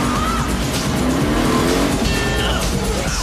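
Inspector Gadget's gadget mobile car revving loudly and tires squealing in a continuous dense burst of engine roar and screeching rubber.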